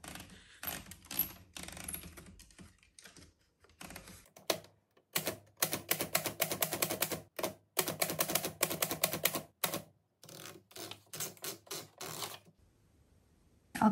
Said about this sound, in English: I'm going to go ahead and type that out with my vintage typewriter, just on some regular white copy paper